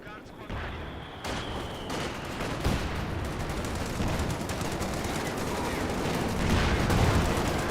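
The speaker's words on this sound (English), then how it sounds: "Good high explosive shots there." High explosive mortar rounds firing and landing in Company of Heroes 2, dense rumbling blasts and crackling battle noise layered continuously, with a voice talking over the fighting.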